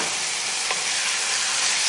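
Chicken with ginger and garlic sizzles steadily in a hot pan, a continuous bright frying hiss with a brief stir partway through, close and alone.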